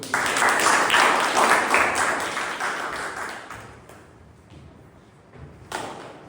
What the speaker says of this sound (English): Give a round of applause to